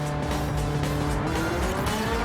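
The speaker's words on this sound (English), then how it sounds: "So we've got the Ferrari F40." Ferrari F40 in Gran Turismo 7, its engine roaring loudly and steadily while tires squeal throughout, a short burst with no talk.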